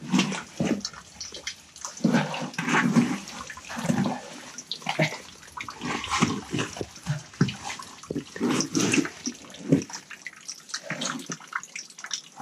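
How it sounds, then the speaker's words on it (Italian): Water drips steadily from a cave ceiling into small pools below, giving a continuous wash of splashing and trickling, fairly loud and close with no voices. "un altro punto di stillicidio d'acqua che proviene dal soffitto"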